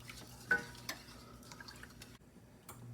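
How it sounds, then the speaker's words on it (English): A pot of eclair dough liquid being stirred as it heats toward a scald, with faint scattered scrapes and light ticks, one clearer knock near the start, all quiet and close in a calm kitchen. "Another thing that we have to stir."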